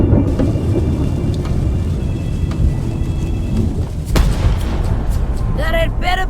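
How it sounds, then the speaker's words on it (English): A ship's cannon fires in the video game Return to Monkey Island, a deep rumbling roar under steady ambient noise, punctuated by a sharp booming blast partway through and followed by brief animated vocal sounds. "Ready for cannon firing."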